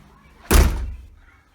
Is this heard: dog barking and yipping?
no